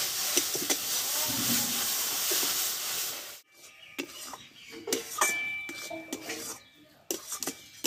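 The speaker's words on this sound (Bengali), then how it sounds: "গাজরটা দিয়ে আমি ভালোভাবে কষে নেব ওই ঘিয়ে, যাতে কাঁচা গন্ধটা যাতে চলে যায়।" Carrot paste sizzles in ghee in a pan with a loud, steady hiss that suddenly drops away and gives way to scattered clinks and scrapes of a utensil against the pan, close up.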